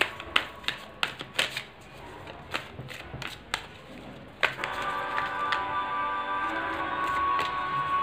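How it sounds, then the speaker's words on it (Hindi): Tarot cards snap and flick in a series of sharp, close clicks as a guidance card is drawn from the deck, followed by a denser rustle of shuffling; no talking. "तो मैं एक गाइडेंस कार्ड आपके लिए निकाल देती हूँ"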